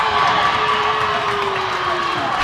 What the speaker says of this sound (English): The crowd lost it.